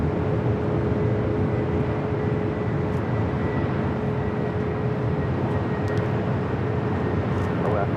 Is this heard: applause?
no